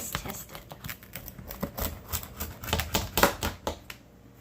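A knife or cutter slices through a homemade pizza fresh from the oven, a rapid run of crisp crunching and scraping clicks, fairly close and quiet.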